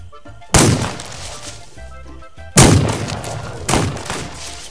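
Three heavy gunshots boom one after another in This Land Is My Land, each a loud close blast with a ringing decay, separated by quieter game ambience and music.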